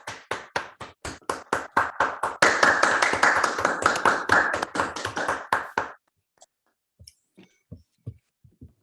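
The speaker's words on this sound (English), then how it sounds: "Can we all unmute ourselves and give the speaker a round of applause?" Online audience clapping for a speaker at the end of a mathematics talk, a few claps building into a brief burst of applause, then dying away into scattered single claps.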